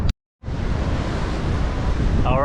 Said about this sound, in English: I think we got to wait for some bigger waves to start coming